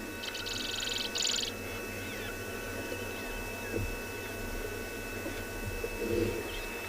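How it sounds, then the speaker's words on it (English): Dawn birdsong on a South African morning safari: a few brief, faint chirps near the start, heard at a distance over a steady low hum with no voices. "The birds chirping."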